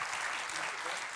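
An audience at an interconsular business trophy ceremony in Nouvelle-Aquitaine bursts into steady, even applause, a continuous dense patter of many hands, fairly soft and distant.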